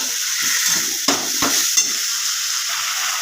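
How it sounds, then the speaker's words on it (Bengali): Prawns and potatoes frying together in a pan for aloo chingri, a steady close sizzle with a few sharp scrapes of stirring. "চিংড়ি মাছটা আমার ওর সঙ্গে ভাজা হয়ে গেছে।"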